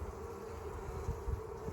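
Honeybees in an open hive during a frame inspection give off a steady, faint, low buzzing hum throughout, with no voices.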